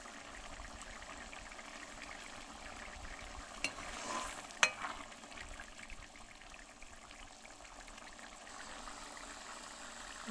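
Cumin and chili fry in a pan for ghugni, giving a faint, steady sizzle. A brief stir or clink rises midway.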